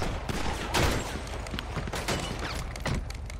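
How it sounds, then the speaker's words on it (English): Gunfire in GTA 5 Online, several sharp shots scattered through a steady noisy game backdrop, with a louder burst near the start and further scattered reports. "It's somebody shooting at us, though, from behind."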